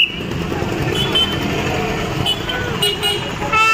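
Auto rickshaws and cars move in steady, dense street traffic outside a temple in Shegaon, with a couple of short horn toots near the end over a constant engine rumble.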